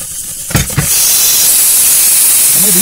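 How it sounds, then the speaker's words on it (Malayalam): A pressure cooker of beef releases steam once its whistle is lifted: two short knocks, then a loud continuous hiss that holds steady to the end. "വിസിൽ, കുക്കറിന്റെ വിസിൽ എടുക്ക"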